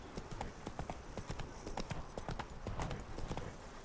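Roach the horse gallops in The Witcher 3: Blood and Wine near the Corvo Bianco estate, hooves striking in a quick, steady drumming rhythm, close and alone without talk.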